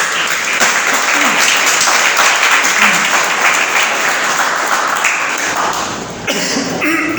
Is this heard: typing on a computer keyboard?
no